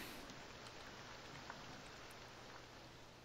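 Rain falls in Minecraft as a quiet, even hiss of drops that holds steady throughout, soft and diffuse with no other sounds standing out.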